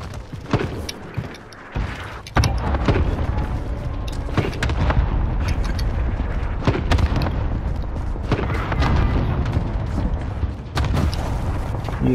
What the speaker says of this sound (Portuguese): Ih, mandaram tiro aqui.